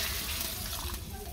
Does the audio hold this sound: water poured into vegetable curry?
yes